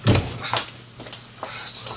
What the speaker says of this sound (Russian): Дверь закрывай.